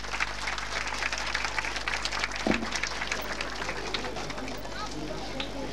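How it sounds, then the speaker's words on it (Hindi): Audience clapping at a school prize-announcement event, a steady, moderately loud patter of many hands with a few voices underneath and a brief louder knock partway through. "जी आप लोगों की भरपूर तालियां होनी चाहिए"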